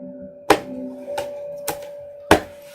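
A La Vera Sibila tarot deck being shuffled, with four distinct, close card taps and riffles at uneven intervals over a faint steady hum.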